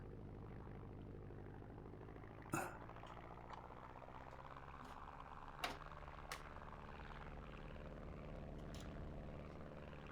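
A de Havilland Tiger Moth biplane's engine in the X-Plane flight simulator drones steadily and faintly, a low even hum with a few soft clicks scattered over it.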